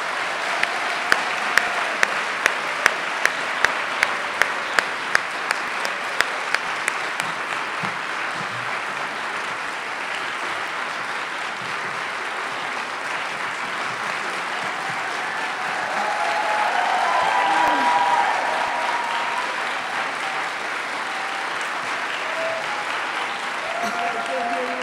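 Audience applause welcoming Toni Morrison at the 2012 Sackler Center First Awards, beginning with a few distinct claps that swell into sustained, even clapping from a crowd, rising briefly louder before holding steady.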